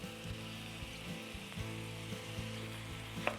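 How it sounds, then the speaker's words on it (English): Sausage squeezed into an onion and tomato mixture sauteing in a pan gives a steady, fairly quiet frying sizzle, with a few soft knocks and one sharper clink near the end, and no talking. "squeeze the sausage into the onion and tomato mixture that is sauteing"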